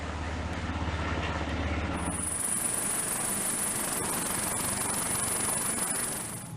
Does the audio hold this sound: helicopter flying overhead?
yes